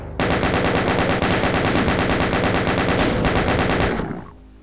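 Rapid, loud automatic gunfire from the Ultimate Doom video game, a dense rattling burst of shots running steadily for about four seconds before cutting off into a short fading tail.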